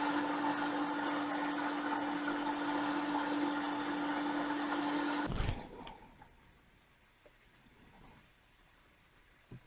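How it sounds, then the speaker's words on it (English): A heat tool blows a steady, loud whooshing airflow at close range onto the small black cover of a second-generation Apple Pencil, then switches off abruptly partway through, leaving quiet room tone with faint handling clicks. "I need to heat up this little black cover here and peel it off."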